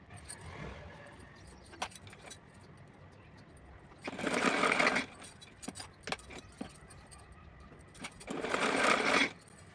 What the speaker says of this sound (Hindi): इस तरह से फोल्ड करके इस पर सिलाई लगाऊंगी। तो चलिए सिल के दिखाती हूँ पहले।